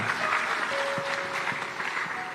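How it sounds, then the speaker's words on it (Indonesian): Audience applause at an Indonesian gathering, a steady wash of many hands clapping at close range, with a faint tonal hum running underneath. "Tepuk tangan buat bapak-bapak utamanya."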